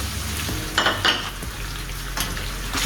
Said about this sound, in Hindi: इसको अच्छे तरीके से हिला लेते हैं।